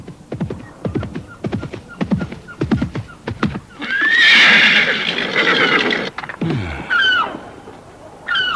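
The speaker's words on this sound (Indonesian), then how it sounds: "Mendadak terdengar suara derap kaki kuda yang makin lama makin mendekat." Horse hooves gallop in a quick, steady rhythm across a misty sandy beach, drawing nearer, then the horse gives loud whinnies and snorts close by.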